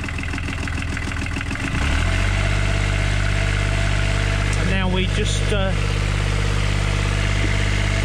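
A marine diesel engine runs at a steady, loud idle with a strong low drone, and revs climb partway through; a voice briefly speaks over it.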